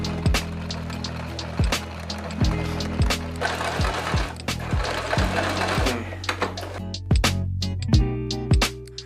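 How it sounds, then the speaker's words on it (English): A sewing machine straight-stitches a dart, its motor humming steadily with a thudding rhythmic needle and repeated sharp clicks, close and clear, with no talk. "we're going to take this and just straight stitch it all the way down to create our dart"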